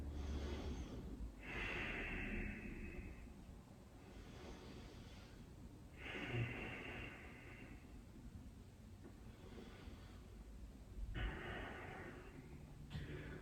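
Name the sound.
deep breathing during yoga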